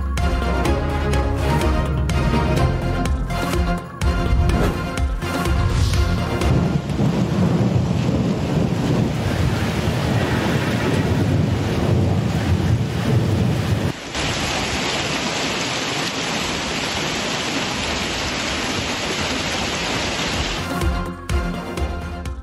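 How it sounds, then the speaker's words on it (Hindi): Heavy rain pours steadily during a severe thunderstorm in Islamabad, with rumbling thunder and gusts of wind, loud and continuous throughout, with a brief break partway through. "इस्लामाबाद में शदीद तूफान, मूसलाधार बारिश और यालाबारी।"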